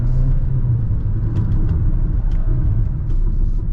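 MG VS HEV hybrid SUV with a 177-horsepower powertrain accelerating hard, a loud, steady engine and road rumble heard from inside the cabin without talking.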